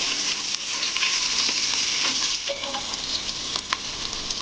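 Crushed ginger and garlic sizzle steadily in hot oil for a beef roast, a close, continuous crackling fry with small pops and occasional stirring scrapes.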